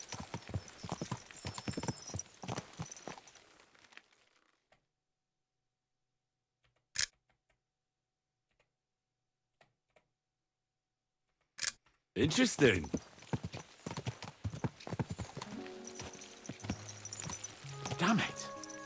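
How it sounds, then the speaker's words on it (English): Horse hooves clatter in a steady clip-clop during a ride in Kingdom Come: Deliverance 2, heard before a near-silent gap and again more loudly at the end, with someone talking. "Let's really spur these horses on, eh?"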